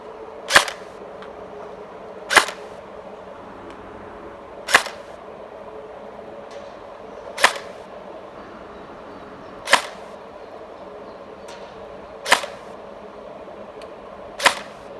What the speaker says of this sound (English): So let's fire down range at Gadge and see what we get.